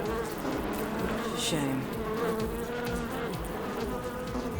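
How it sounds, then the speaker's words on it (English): Buzzing swarm of wasps trapped in a pocket in the video game The Drifter, a dense, steady insect drone filling the whole stretch, with a voice briefly speaking over it. "Maybe don't mess around while there's a swarm of wasps in your pocket."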